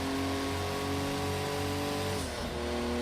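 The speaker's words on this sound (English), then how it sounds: "It's back on the power, accelerates in nice and hard, all the way up to fourth gear." A Porsche 935/78 race car in Project Cars 2 revs hard toward the red line, a loud dense engine roar that climbs and then dips briefly at a shift near the end, with no talking.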